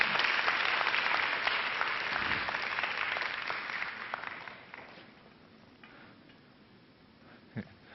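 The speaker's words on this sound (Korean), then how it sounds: "이제 저희 조교님께 이제 뜨거운 박수를 부탁드립니다." An audience at a 2012 technology forum in Busan applauds steadily for about five seconds, then the clapping fades into quiet room noise with a few scattered claps and a faint thump near the end.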